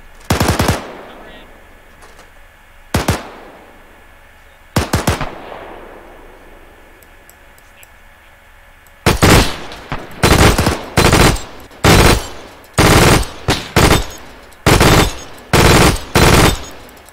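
Machine gun bursts at a D-Day 75th anniversary reenactment, loud and close: a few separate bursts with pauses between them, then a fast, steady run of short bursts firing one after another.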